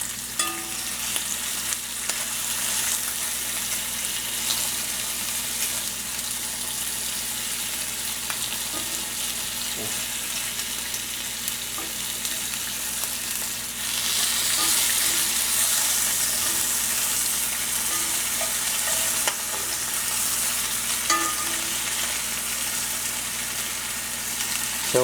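Bacon frying in a cast iron pan, a steady dense sizzle and crackle throughout with occasional soft clinks as strips are flipped, getting a bit louder partway through.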